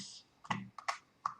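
A computer keyboard is typed on with a few quick, crisp key clicks in uneven bursts, close and fairly quiet, with no talking.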